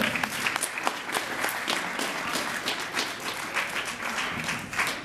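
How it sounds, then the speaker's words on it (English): A school audience in Rialto, California claps steadily and warmly, a dense, sustained applause filling the room with no pause. "give yourself a round of applause"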